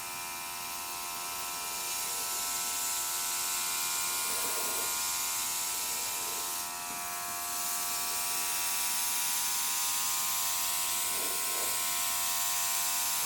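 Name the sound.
airbrush spraying colour onto cake board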